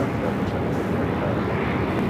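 A Southwest Airlines plane departs Phoenix airport, a steady, loud jet engine roar filling the short stretch without pause.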